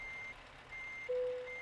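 A Volvo truck reversing in Euro Truck Simulator 2, its back-up alarm giving three steady evenly spaced beeps over a low engine idle, with a brief hiss of air brakes near the end.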